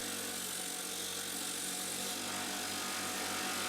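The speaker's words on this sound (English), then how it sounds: "I'll also use the wire wheel to clean up our box of bits." A bench-mounted wire wheel grinds rust off an old, long-buried brace bit, giving a steady, loud, broadband scratchy whir with a constant motor hum that runs throughout at close range, with no speech.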